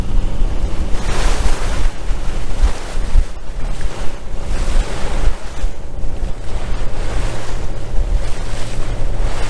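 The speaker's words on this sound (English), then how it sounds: "5 or 6 foot waves coming in" Ocean waves of five to six feet surging around a sailboat at sea, a continuous loud wash of surf with heavy wind noise buffeting the microphone and no talking.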